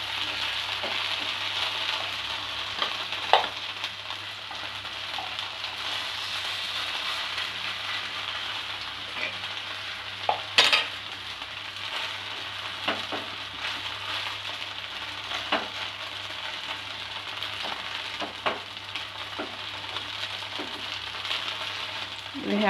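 Poha and potato cutlets fry on a low flame in a pan, a steady, moderately loud hiss and crackle that continues throughout, with occasional small pops and a louder clack partway through.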